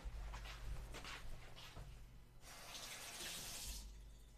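Tap water running into a sink while hands are rinsed after cracking eggs, a steady close splashing flow that grows brighter and louder midway, with brief handling noises.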